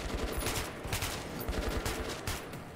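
Muffled, continuous gunfire in the video game Metro 2033 while aiming for a headshot, dense rapid shots blending into a steady roar.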